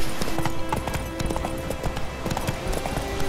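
A horse gallops at speed in The Witcher 3: Wild Hunt, with rapid steady hoofbeats in a close, loud, continuous run and no speech.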